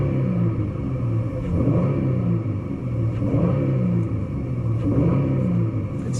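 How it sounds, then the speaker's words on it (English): A 2018 Dodge Challenger GT AWD with a 3.6L V6 rumbles through its exhaust at steady revs, a low, even drone with mild swells and no voices over it. "It doesn't have that good of an exhaust sound."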